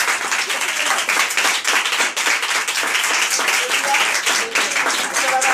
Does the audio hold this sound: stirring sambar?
no